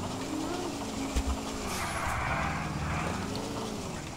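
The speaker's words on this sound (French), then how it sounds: "Oh le drift." A car drifting and skidding on simulated ice in GTA IV, with a wavering engine drone, tire noise and a brief thud, while people talk over it.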